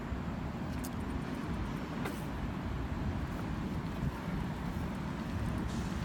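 Continuous low roar of passing road traffic, cars and buses blending into a steady rumble with occasional faint hisses, no voices.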